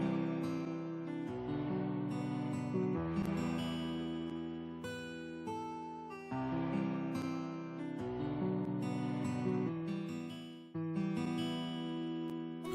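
Soft beat built from a Studio Grand piano, Winterbank strings and drums, with gentle repeating chords and steady percussion over about thirteen seconds at a quiet, even level.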